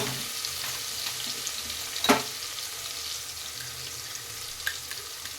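Garlic frying in ghee in a pan for ghee rice, a faint steady sizzle with a brief clatter near the middle.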